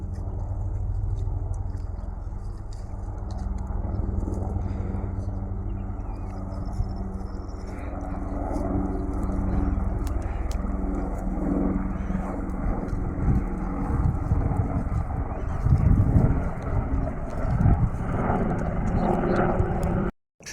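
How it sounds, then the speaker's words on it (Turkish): A steady low helicopter engine drone hums throughout, like an aircraft passing at some distance, with faint voices and outdoor countryside village noise underneath. "Evet helikopter"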